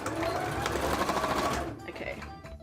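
A sewing machine runs steadily, top stitching fabric for a cosplay piece, with a loud, continuous rapid needle chatter that stops abruptly near the end.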